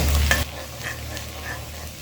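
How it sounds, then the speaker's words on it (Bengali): Seven to eight chopped garlic cloves and half an inch of chopped ginger hit hot oil in a pan, a loud burst of sizzle settling after a moment into a steadier, softer frying hiss. "সাত থেকে আট কোয়া রসুন কুচি হাফ ইঞ্চি আদা কুচি দিয়ে দিলাম আবারও তিরিশ থেকে চল্লিশ সেকেন্ড ভেজে নেব"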